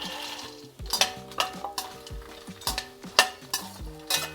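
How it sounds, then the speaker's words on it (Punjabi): Fox nuts (makhana) roast in a pan over low heat, with a faint sizzle beneath frequent rhythmic scrapes and clatters as a spatula stirs and tosses them against the metal, close and untalked over. "ਹੁਣ ਆਪਾਂ ਮਖਾਣੇ ਵੀ ਭੁੰਨਾਂਗੇ"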